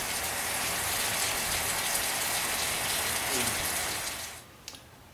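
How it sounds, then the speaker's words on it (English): Chilled beer wort for an Irish red brew-in-a-bag batch pouring into a fermenter, a steady rushing gush of liquid that cuts off near the end with a small clunk. "then we'll transfer the wort into the fermenter"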